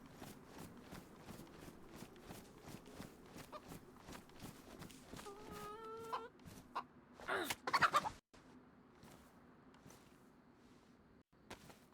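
A hen clucks in the game DayZ, a short series of clucks around the middle, heard among steady rhythmic footstep-like thuds in a dark town setting. Faint low voices come and go.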